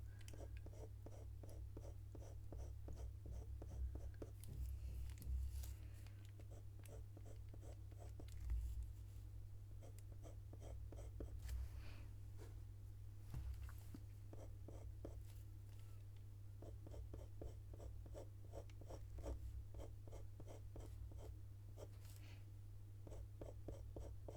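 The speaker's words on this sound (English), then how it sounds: "the pencil works quite loudly on this surface" Coloured pencil scratching across textured paper in rapid, steady back-and-forth strokes, close and fairly quiet, with a soft low hum underneath throughout.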